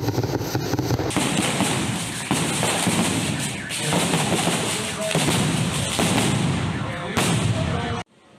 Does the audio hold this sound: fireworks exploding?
yes